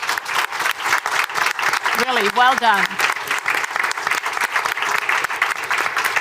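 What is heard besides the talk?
warm applause from the audience for a panel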